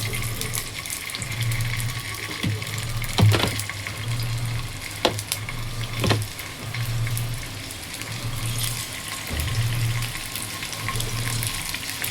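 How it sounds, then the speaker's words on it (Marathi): Fish frying in a pan at home, a steady loud sizzle running throughout with a few sharp clatters and scrapes on top and a low hum in the background. "करून घेते फिश फ्राय."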